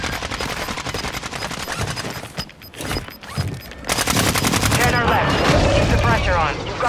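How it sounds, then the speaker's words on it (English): Rapid automatic gunfire and heavy airstrike explosions from the Warzone 2.0 battle royale video game, loud and dense throughout, with a brief lull midway before bursts of fire resume, while game voice callouts speak over the combat. "Friendly airstrike on the way."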